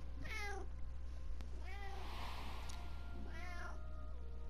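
A cat in Final Fantasy XIV meows three times, each a clear, close, drawn-out call with a sliding pitch, spaced evenly over a low steady hum.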